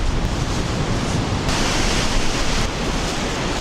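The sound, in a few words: strong wind on an island coast during a blizzard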